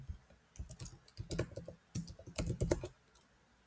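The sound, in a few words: typing on a computer keyboard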